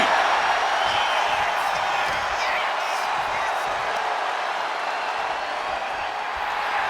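Steady roar of a wrestling arena crowd in the WWE 2K26 video game, a dense continuous cheer with scattered whoops, loud and unbroken throughout.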